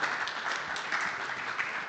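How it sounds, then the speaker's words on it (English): A conference audience at a panel event applauds with dense, continuous clapping at moderate volume from a seated crowd, steady for the full duration. "Give a round of applause for the panel"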